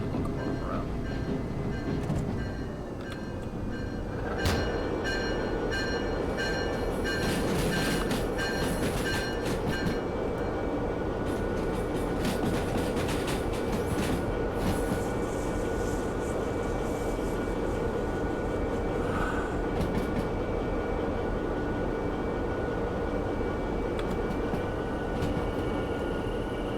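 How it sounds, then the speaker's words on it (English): Locomotive rolling along rails in the train simulator game Derail Valley, a steady loud rumble with rail clatter and tonal squeals throughout, heard alone with no talk. "I'm going to use the Y to turn the locomotive around."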